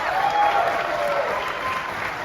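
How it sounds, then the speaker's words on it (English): A theater audience applauds at a film Q&A, steady dense clapping with some crowd noise and a voice sliding over it, holding at an even level throughout. "So give them a round of applause."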